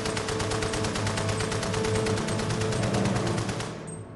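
Sustained rapid fire from a Bren machine gun in warning bursts, dense rhythmic shots filling the whole stretch before cutting off near the end, loud and close.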